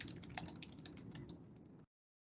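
Computer keyboard typing during a lesson on brain anatomy, a quick run of light clicking keystrokes for under two seconds, close and moderately quiet, then silence.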